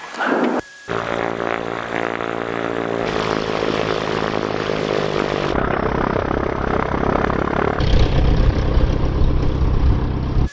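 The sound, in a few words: small propeller airplane engine run-up before takeoff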